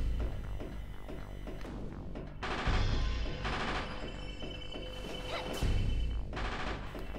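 Turrets firing in Castlevania on the Nintendo 64, a quiet run of repeated sharp shots with heavier crashing bursts at intervals, steady throughout and with no talking.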